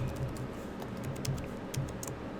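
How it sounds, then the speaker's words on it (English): Computer keyboard keys being typed in a short burst while entering a MySQL delete command, light clicking taps spread across the moment over a low steady room hum, with no talking. "now if I come through here and I type in, for example, delete from"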